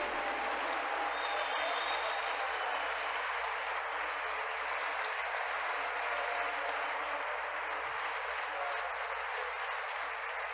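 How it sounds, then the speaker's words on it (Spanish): A church congregation applauds in steady, sustained clapping that fills the room at an even loudness for about ten seconds, with no talking over it. "Un aplauso para él."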